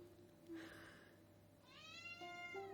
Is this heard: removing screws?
no